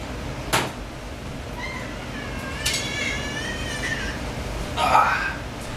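A cat meows several times in a kitchen while pizza is being made in a crock pot, with drawn-out, wavering cries, a short one and a louder one near the end, plus a sharp knock early on.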